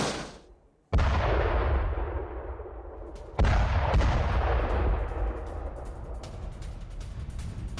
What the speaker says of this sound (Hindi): रूस पर यह आर्टिलरी अटैक।